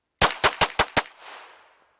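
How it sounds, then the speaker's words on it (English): Five pistol shots fired in a timed drill: loud, sharp reports in quick, even succession about a fifth of a second apart, with a short echoing tail fading after the last shot in an otherwise quiet setting. "So we're going to try 5 rounds under 2 seconds."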